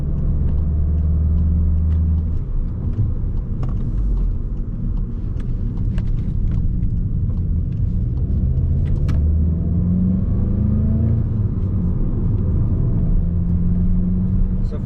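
A 2018 Volkswagen Golf GTI cruises along smooth roads north of the city, its steady engine drone and tire rumble filling the cabin continuously, with a few faint clicks and ticks from inside the car.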